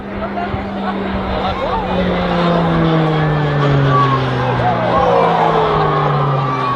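Roulettes Pilatus PC-9A aircraft sweep past in a display at RAAF Base Point Cook, their loud droning engine note sliding steadily lower in pitch as they pass, with crowd murmur underneath.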